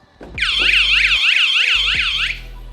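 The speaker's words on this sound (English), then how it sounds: "straight away the alarm goes off." A loud electronic van alarm, set off by trying the door handle, whoops in fast rising sweeps for about two seconds, close by, with no talking.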